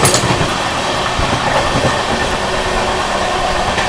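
An Indian passenger express between New Delhi and Gaya overtakes another train, heard from on board as a loud, steady rumble of wheels and carriages with a faint clickety-clack running throughout.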